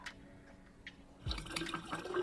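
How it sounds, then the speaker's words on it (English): Blueberry and vanilla vodka is poured into a pitcher with ice, giving a close, continuous liquid splash and gurgle mixed with light clinks after a quiet start with faint drips. "I'm going to put equal parts of blueberry vodka to vanilla vodka"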